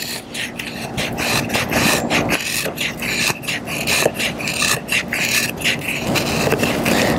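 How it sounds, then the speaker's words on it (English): Chisel-grind knife blade carving feather sticks from a piece of wood on a camping outing: repeated rasping, scraping strokes in a steady rhythm, close and fairly loud, with no talking. "So we'll go ahead and see if we can carve some feathers with this thing."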